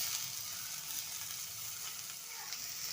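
Tomatoes hitting golden fried onions in a pan for palak paneer, giving a soft, continuous hiss of frying that stays faint and even throughout with no voices.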